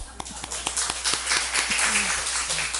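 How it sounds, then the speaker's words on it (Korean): Scattered clapping from a church congregation during a Sunday service, a sparse patter of hands building into a steady, moderately loud round with a few murmured voices underneath. "우리 오늘 100점 맞으신 분들을 위해서 박수"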